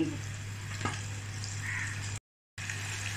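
Meat fries with ginger, garlic and garam masala, a low, steady sizzle over a constant electrical hum, with a short silent dropout near the end.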